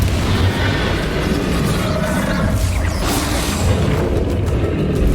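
Confringo fire-spell blasts in the Hogwarts Legacy video game rumble as a continuous loud, dense stream of booming explosions and bursts throughout, with no clear gaps between impacts.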